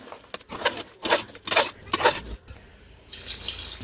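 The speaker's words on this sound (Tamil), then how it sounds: "கறி வேகிறதுக்கு தேவையான அளவு தண்ணி சேர்த்துப்போம்" Water poured into a pot of Mughlai-style beef curry, a close splashing pour in several bursts with brief pauses, ending in a brighter hiss of liquid.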